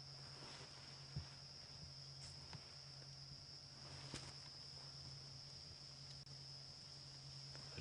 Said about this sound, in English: You can hear some cicadas calling.